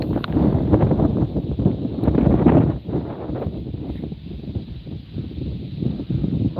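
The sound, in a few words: wind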